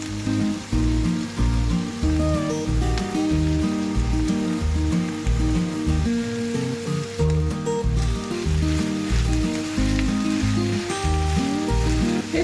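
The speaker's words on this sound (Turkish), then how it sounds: "ikisini birlikte 2-3 dakika kadar karıştırarak kavuracağım" Green and red peppers sauté in a pot with other vegetables for an eggplant and meat stew, a steady close sizzle and crackle running throughout with occasional stirring scrapes and no talk.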